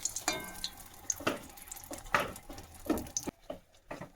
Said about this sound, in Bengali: পটলগুলো নুন হলুদ মাখিয়ে রেখেছি এবার এগুলো তো ভেজে নেব